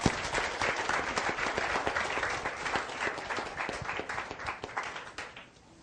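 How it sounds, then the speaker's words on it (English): Audience at a seminar breaking into dense, sustained applause with sharp individual claps, which tapers off near the end. "Give yourself an applause."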